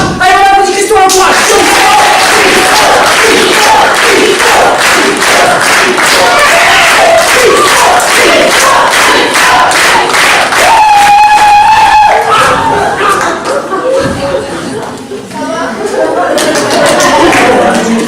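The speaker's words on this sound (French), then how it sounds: "on applaudit Christo en courage" Loud comedy-show audience cheering and clapping as a performer is welcomed on stage, a dense sustained roar of applause with shouts and whoops throughout.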